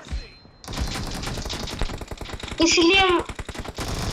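Rapid automatic gunfire from a BGMI mobile battle royale match, dense bursts of shots running through most of the clip while a player speaks briefly over it.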